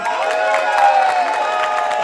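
An indoor audience applauds and cheers: a dense, continuous wash of clapping and shouting voices from a crowd, fairly loud and sustained throughout.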